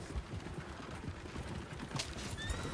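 Horses in the Red Dead Redemption 2 video game whinny over a dense clatter of hooves, with a sharp neigh near the end amid busy, noisy surroundings.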